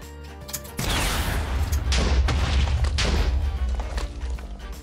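A loud, close TNT blast in Minecraft, a single booming explosion that hits hard and rumbles on for several seconds.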